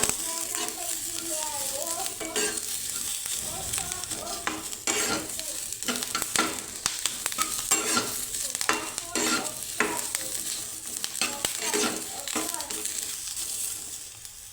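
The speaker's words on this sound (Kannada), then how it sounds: "ಈಗ ನಾನು ಇದಕ್ಕೆ ಒಂದು ಅರ್ಧ ಟೀ ಸ್ಪೂನಷ್ಟು ಆಯಿಲನ್ನು ಹಾಕ್ಕೊಳ್ತಾ ಇದ್ದೀನಿ ಹಾಕ್ಕೊಂಡು ಚೆನ್ನಾಗಿ ಫ್ರೈ ಮಾಡ್ಕೋಬೇಕು" Ingredients fry in half a teaspoon of oil in a kadai while being stirred, giving a continuous near sizzle with rhythmic scraping and rattling strokes of a spatula against the metal.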